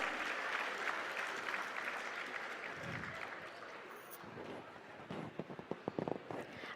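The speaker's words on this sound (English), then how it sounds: "A big round of applause for CA Ajay Rotti sir." An audience at a chartered accountancy students' national conference claps for a speaker being brought to the stage, a fairly quiet, dense patter that thins into scattered individual claps near the end.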